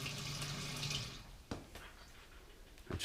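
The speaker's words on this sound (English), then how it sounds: "And it is spitting out fuel like crazy." A fuel pump under test spits fuel in a loud, close hissing gush that fades after about a second, followed by a few sharp knocks against quieter background noise.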